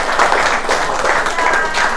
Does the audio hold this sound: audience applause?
yes